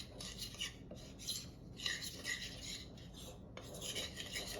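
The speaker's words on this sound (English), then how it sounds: "We're gonna go ahead and give a little bit of mix in all of this first since it's fairly wet." A spoon or whisk scraping and stirring wet keto brownie batter with eggs in a bowl, rapid rasping strokes in bursts, close and fairly quiet, with no talk.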